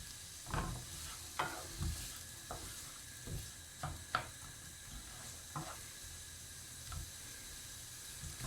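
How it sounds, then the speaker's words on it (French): Onions and garlic frying in a pot for lasagne, a steady sizzle broken by a series of stirring scrapes and knocks spaced a second or so apart, fairly close and with no talk. "on met les oignons avec l'ail"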